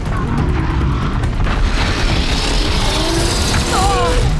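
Heavy booming impacts and rumbling from a Trampler machine attack in Horizon Zero Dawn, loud low thuds and crashing bursts layered with game effects and a few faint tonal chirps.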